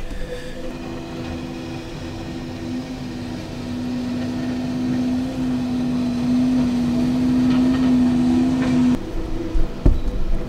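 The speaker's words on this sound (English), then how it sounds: "Street sweeper on the way, and it's gonna get noisy." A street sweeper passes along a city street, its engine a steady, loud rumble with a rising whine that swells as it draws near, then ends in a few clunks.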